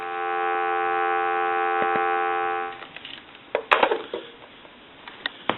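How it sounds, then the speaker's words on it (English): A steady telephone dial tone, an even, moderately loud hum, comes through a Radio Shack clear Trimline telephone for nearly three seconds and then cuts off, followed by a few faint clicks and handling knocks. "Give you some dial tone."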